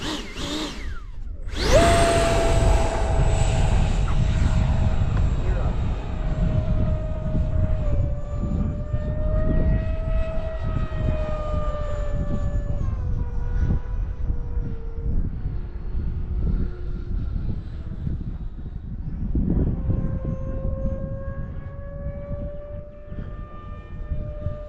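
An FMS BAe Hawk RC model jet flies overhead with a loud, continuous ducted-fan whine that rises and falls in pitch as it passes and banks, steady throughout with no talk.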